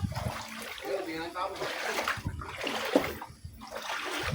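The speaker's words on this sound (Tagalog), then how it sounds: "Lulusong tayo sa baha." Someone wades through green, garbage-strewn flood water around houses, the legs sloshing and splashing in uneven bursts close by, while people talk over it.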